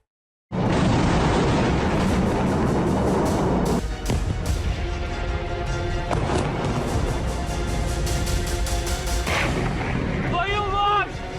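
Israeli airstrike explosions in southern Beirut, Lebanon, heard as a loud, continuous roar of blast and rumble that starts abruptly and stays heavy throughout, with sharper cracks scattered through it.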